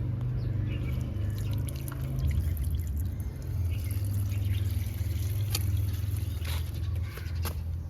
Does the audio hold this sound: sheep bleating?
no